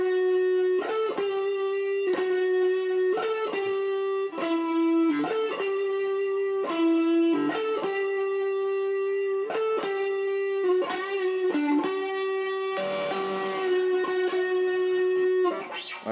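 Electric guitar playing the opening of the second solo from a song, a clean, steady run of repeated picked notes in a looping melodic pattern with sustained tones, heard alone and clearly.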